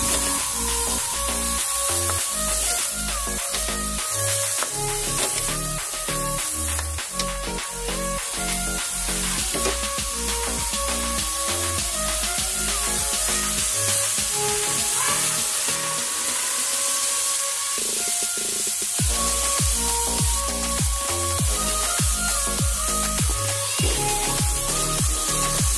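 Continuous loud sizzling and frying as water spinach stems and anchovies are sautéed in a pan, with occasional stirring clatter, steady throughout with no talking.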